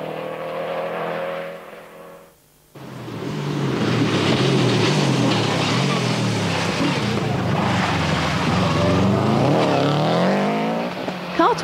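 A Subaru Impreza rally car on a stage of the 1995 London International Rally, its engine droning close and loud, then surging into a sustained roar with rising revs and gear changes, a voice talking over it.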